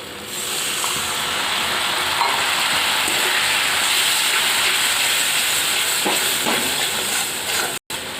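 Water poured into a hot pan of spiced Maggi noodle masala with black pepper sets off a loud, steady sizzling hiss that carries on unbroken for several seconds, close to the microphone.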